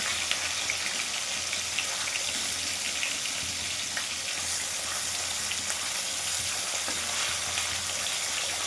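Katla fish sizzles steadily in a pan, a dense continuous frying hiss with faint crackles throughout and no voices.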